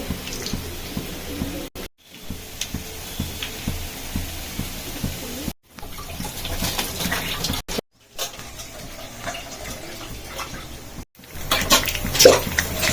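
Water comes to a boil in a pot for mint rice before the rice goes in to cook under pressure. A steady, close bubbling wash runs throughout, broken by a few brief silent cuts.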